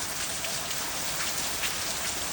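Steady rain falling on a surface as a storm arrives, a dense, even hiss that stays constant and fairly loud throughout with no voices.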